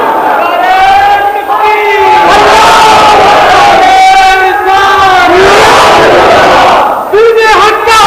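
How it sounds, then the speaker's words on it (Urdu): A large crowd chants the slogan "wali, wali" in unison at a religious gathering, with loud, sustained massed voices rising and falling in rhythmic waves for the whole stretch. "ولی ولی یہ آپ کے نعرے ہیں"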